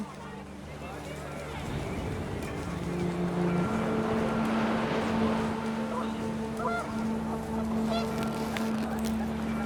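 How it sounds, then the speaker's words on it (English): Panicked geese honk in the video game What Remains of Edith Finch amid rising wind, a cluster of faint calls over a steady windy bed while a narrator speaks throughout. "The wind picked up, and panicked geese appeared and quickly went."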